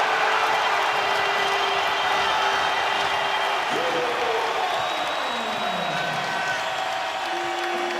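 A basketball arena crowd roars and cheers during a Florida Gators run against Mississippi State, a loud, continuous swell of cheering and clapping with whistles and a sustained horn-like tone, heard at a distance.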